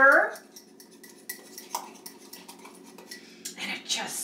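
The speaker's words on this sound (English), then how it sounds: "Give it a good stir." A spoon clinks and scrapes against the sides of a mug while keto mug cake batter is stirred, a series of light metallic taps and rattles at low level, with a brief voice-like sound at the start.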